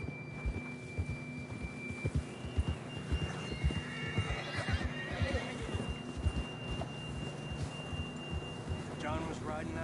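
In the video game Red Dead Redemption, a horse's hooves clip-clop steadily at close range while it snorts and gives a neigh, over a steady tonal hum with brief voices.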